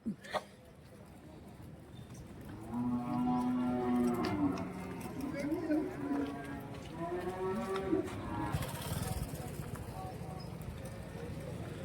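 Cattle low with long harmonic moos at a busy Vaniyambadi cattle market, several calls in a row at close range over a constant crowd murmur, with hoof clatter and people talking nearby.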